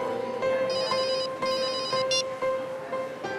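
A mobile phone ringtone rings loudly in an indoor scene from the Hindi crime drama CID, repeating a bright electronic melodic pattern in short bursts with brief gaps.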